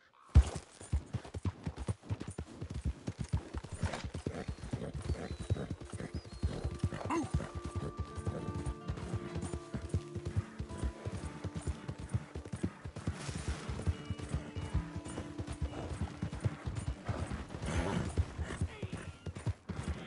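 Horse hooves clip-clopping in Red Dead Redemption 2, a steady close run of sharp hoof strikes that carries on for about twenty seconds, with a whinny in the mix and a faint voice under it.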